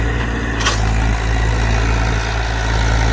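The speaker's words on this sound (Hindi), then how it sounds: "लो के तीसरे गियर में चल रहा है भाइयों ट्रैक्टर।" A 42 HP tractor engine runs steadily in low third gear, a loud continuous low rumble close by with one brief sharp burst early on.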